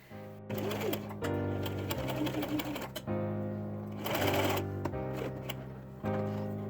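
A sewing machine runs a zigzag stitch to close up fabric for a tiered skirt, whirring in several bursts of a few seconds each, with short stops between them.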